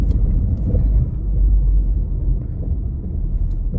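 Low road rumble fills the inside of a car driving on a German road, a steady, fairly loud hum of engine and tyres with no voices.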